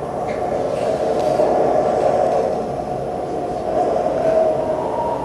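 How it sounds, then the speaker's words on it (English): A train at a station platform, a steady, loud mechanical rumble and hum of rail cars rolling close by, with faint clatter, continuous throughout. "This is my train."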